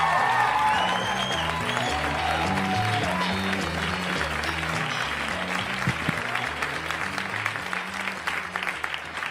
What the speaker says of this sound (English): Let's give him a big rousing round of applause for Orlando Baxter